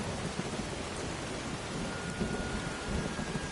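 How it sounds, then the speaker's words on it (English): Heavy torrential rain with rumbling thunder in the video game Skyrim, a dense continuous downpour with low rolling rumbles underneath, fairly soft in level. "I don't know whether you can hear me over the torrential downpour"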